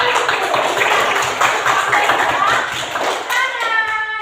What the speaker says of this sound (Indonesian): Tepuk tangan dulu untuk anak-anak kita.